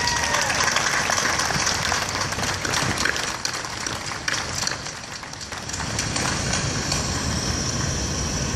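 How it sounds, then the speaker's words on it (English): Audience applause for service members at a September 11 remembrance ceremony in Honolulu, a broad, steady wash of clapping from a crowd that carries on for several seconds before easing slightly and swelling again. "Please give them a round of applause."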